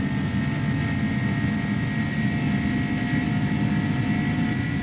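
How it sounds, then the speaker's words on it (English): Airbus A300 jet engines at takeoff thrust in a flight simulator game make a loud, steady roar with a sustained whine, continuous and unbroken with no talking. "Listen to those engines."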